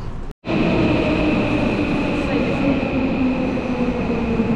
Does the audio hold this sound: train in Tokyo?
yes